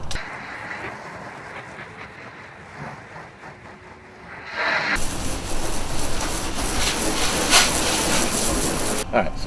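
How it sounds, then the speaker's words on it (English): A garden hose pre-soaking a truck before a two-bucket wash: quiet outdoor ambience at first, then a sudden loud, broad hissing spray of water that runs steadily and close for several seconds. "Then I'm going to go ahead and start pre-soaking the truck."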